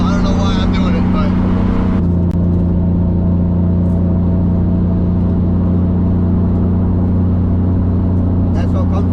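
Heavily modified 500-horsepower turbocharged BMW E34 with an M50 engine cruising, a loud steady exhaust drone and engine hum inside the car, with someone talking over it briefly at the start.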